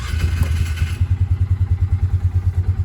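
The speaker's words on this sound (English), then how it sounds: "So we're in the Ranger here. We're going to head down to the homestead." A Polaris Ranger utility vehicle with a vinyl windscreen drives toward a homestead, its engine throbbing in a steady, loud pulsing rhythm, with some clatter at the start.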